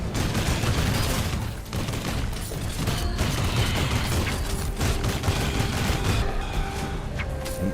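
Rapid gunfire from the VR shooter Hellsweeper VR, dense bursts of shots packed with mechanical clatter and booms, loud and steady throughout with no talk.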